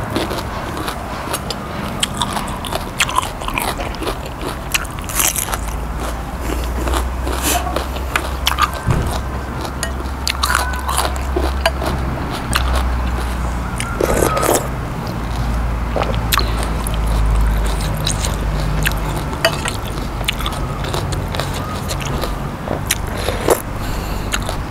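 Fresh, crunchy raw vegetables served with spicy Isan pork larb are bitten and chewed close to the microphone, giving a steady run of loud, crackling crunches with no talking.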